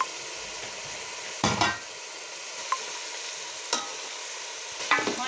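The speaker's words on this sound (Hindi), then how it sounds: "इसे अच्छी तरह से भून लेंगे हम।" Beef liver masala sizzles steadily in a pan with green chilli and coriander, broken by a few sharp scrapes and stirs of a spoon spaced a second or more apart, close and alone without talk.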